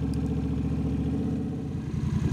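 A Honda Rebel 1100 motorcycle engine idling steadily up close, a low rhythmic chugging putter that stays even throughout.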